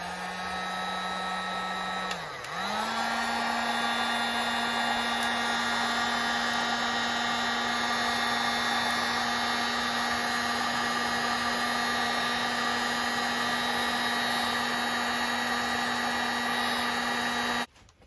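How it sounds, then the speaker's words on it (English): A small heat gun blows steadily, shrinking heat-shrink tape over battery wires on a Razor scooter, its even airflow hum running nearly eighteen seconds with one brief dip in pitch early on. "You can definitely use a lighter, but I've got a little heat gun here."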